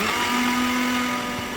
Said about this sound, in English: I will blend it together with these ingredients.